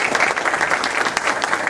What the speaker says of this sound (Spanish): Y un aplauso para ustedes.